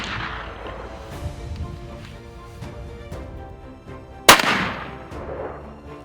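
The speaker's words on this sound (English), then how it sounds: "Shoot, same spot, please, Brian." A Holland & Holland rifle being sighted in for a Cape buffalo hunt fires a single loud, sharp shot outdoors, its blast decaying over a low background rumble.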